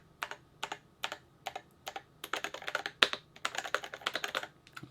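Fast, crisp clacking from a Melgeek Pixel mechanical keyboard, a brick-compatible board with a keypad, close and alone. Keystrokes come in short irregular bursts that grow denser and quicker toward the end.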